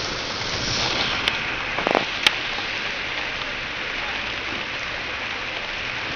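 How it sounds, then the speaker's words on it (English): Steady rain pours down during a thunderstorm in Deal, Kent, a constant even hiss of falling water with a few brief knocks and clicks near the start, no speech. "The rain's coming down, that helps."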